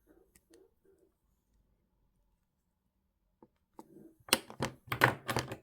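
Wire cutters snip wire while a chain link bracelet is made: a few faint, isolated clicks, then a louder cluster of sharp snapping cuts close by toward the end.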